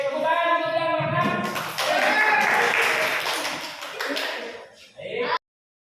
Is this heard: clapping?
yes